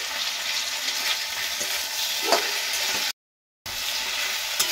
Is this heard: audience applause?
no